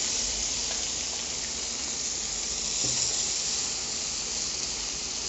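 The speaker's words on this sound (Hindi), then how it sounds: "जीरा भुनने लगा है, हम इसमें प्याज ऐड कर लेते हैं।" Chopped onions hit hot ghee with roasting cumin in a pan, giving a steady, dense frying sizzle and hiss that continues evenly throughout with no talking.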